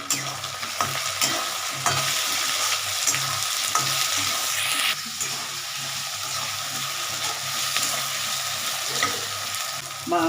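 Tomatoes and sugar sizzle steadily in a frying pan while a spoon stirs and scrapes through them, a continuous close frying hiss with occasional scraping clinks, no voices.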